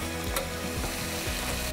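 Bean sprouts and carrots fry in a hot pan with an egg, giving a loud, steady sizzle and crackle, with faint scraping as the food is stirred.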